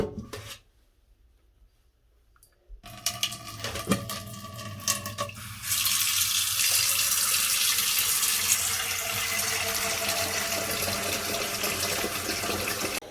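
After a quiet moment and some clanking, a tap turns on and water runs steadily into a metal pan, loud and close.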